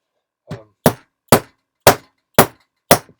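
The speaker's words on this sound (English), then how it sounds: "This is a dead blow hammer, so it doesn't change the shape of the metal." Plastic sand-filled dead blow hammer striking sheet metal pieces to flatten them, six evenly spaced dull thuds about half a second apart, close and fairly loud with no talk.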